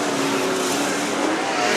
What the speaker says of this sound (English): Now Dave Baker trying to make it a 3-car battle.